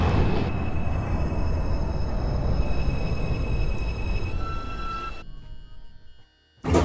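Subway train in an OpenBVE simulation of a Manhattan-bound 5 express: loud steady rumble of wheels and motors with tonal whine, fading near the end, a brief quiet gap, then the rumble resumes.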